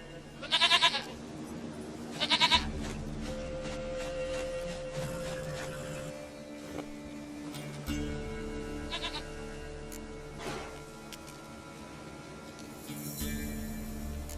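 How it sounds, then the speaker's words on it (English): A goat bleats in The Witcher 3: Wild Hunt, two sharp loud bleats near the start, then fainter animal calls and thumps over a steady game ambience. "Goat of mine, dearest, sweetest goat."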